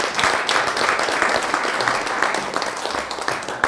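An audience claps steadily for a start-up founder taking the stage at a pitch event, a dense, even patter of many hands filling the whole stretch without letting up.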